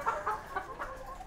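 A Black Silkie and a native chicken clash, giving short clucking squawks in a quick run of four or five bursts, close and moderately loud with no talk.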